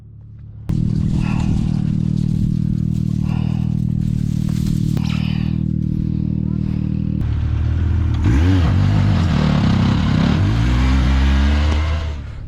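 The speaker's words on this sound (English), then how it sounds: "The car is coming!" Yamaha YXZ1000R side-by-side engine revving loudly and steadily at close range during a desert rally in Qatar, building to a harder, rising roar in the final seconds with no talk.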